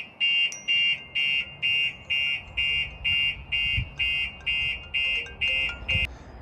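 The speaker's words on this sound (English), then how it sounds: "So even though the alarm is going off, you'll always get notification and a call from the alarm." A Starline S9 alarm on a Chausson motorhome beeps in loud, evenly spaced pulses, about a dozen of them in quick succession, with faint background noise between.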